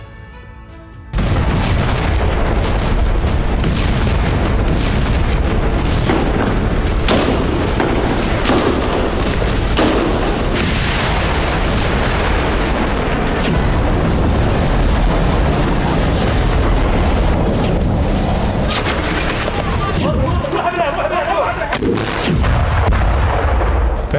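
Heavy artillery and rocket explosions during strikes on the Gaza Strip, a dense, loud barrage of booms and blasts rolling almost continuously for over twenty seconds with no voices.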